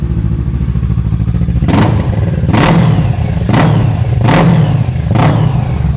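A superbike with an original Akrapovic exhaust rumbles loudly at idle close by, then gets four quick, sharp throttle blips in a row, each rev rising and falling back to the idle.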